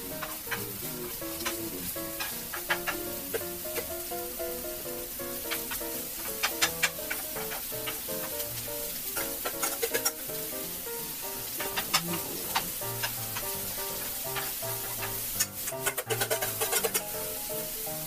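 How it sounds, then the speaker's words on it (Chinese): Balls of chicken breast paste sizzle in oil in a frying pan, a steady crackle broken by sharp pops and spatters, with a few clinks from a utensil stirring or turning them. "煎到有一边你觉得差不多的时候，就可以翻面了"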